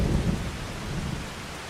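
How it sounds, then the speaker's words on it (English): Steady rain with low rumbling thunder in the Farming Simulator 25 game, a continuous wash of downpour with a deeper roll near the start, no voices. "Oh no, there's rain."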